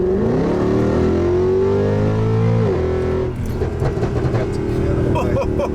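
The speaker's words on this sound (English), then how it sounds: "Listen to those pops and crackles, ladies and gentlemen." A 2008 Mercedes-AMG C63 (W204) engine revs with a rising, steady drone that cuts off sharply, then gives way to a burst of loud, irregular exhaust pops and crackles close to the listener.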